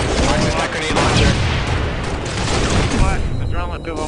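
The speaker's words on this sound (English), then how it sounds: "Watch this grenade launcher." Grenade launcher fire and blasts in a multiplayer shooter video game, dense rolling booms and gunfire layered over continuous voices and battle noise.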